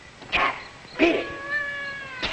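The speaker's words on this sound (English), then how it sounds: "Some cat woke me up." A cat meows in a 1954 space-ranger television serial, two drawn-out tonal cries with a rising wail between them, fairly near and moderately loud against a quiet background with no talk.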